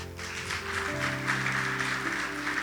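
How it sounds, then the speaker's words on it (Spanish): Church congregation clapping together in praise during a Spanish-language worship service, a brief, fairly close burst of steady applause with faint sustained tones underneath. "Denle un fuerte aplauso al Señor."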